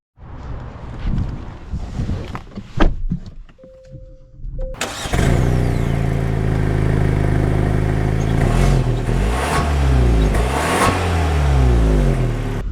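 A 2025 Genesis G70 Sport Prestige with the 2.5-litre turbo engine starts after some handling noise, then settles into a steady, loud, close engine drone as the car pulls away, without talk.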